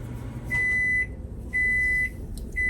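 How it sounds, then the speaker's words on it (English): Microwave oven heating lunch gives three clear, loud electronic beeps, each about half a second long and evenly spaced, over a low steady hum from the running appliance. "My lunch is in the microwave."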